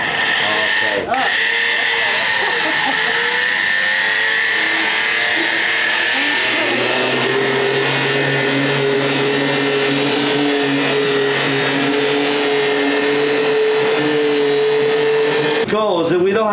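A gelato machine blends ingredients for fior di latte with a continuous loud whirring motor hum that holds steady for a long stretch, with brief clatters near the start and end.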